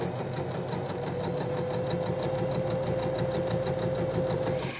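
Sewing machine running a steady continuous seam on a cocktail dress, a close, even motor hum with rapid needle chatter throughout.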